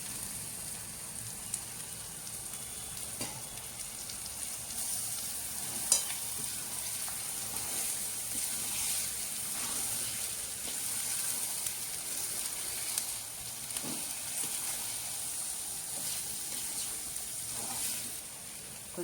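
Garlic paste sizzles steadily in hot ghee for a mutton lung and liver curry, a continuous close crackle with occasional soft stirring scrapes and no talk.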